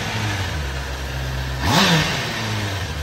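A 2021 Honda CBR650R motorcycle engine idles with a low rumble, then revs up briefly and settles back to a steady idle.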